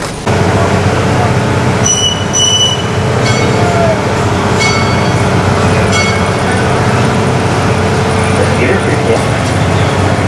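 A train rumbles steadily with a low continuous drone, interrupted by brief high metallic squeals and clanks from the wheels.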